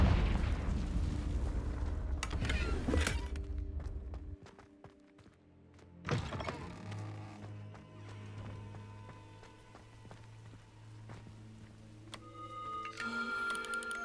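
A Confringo blasting spell goes off in Hogwarts Legacy, a loud booming burst near the start, then a second sharp blast with a tonal magical ring that lingers, over game music and ambience.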